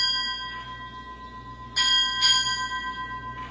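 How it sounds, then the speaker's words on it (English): A ship's bell is struck at a military change of command ceremony, ringing out as a close pair of bright metallic strikes with lingering ring over a steady electrical hum in an otherwise quiet hall. "Strike 8 bells."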